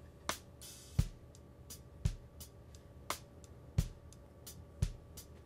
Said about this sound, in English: This is the sound of the drums in the first section uncompressed.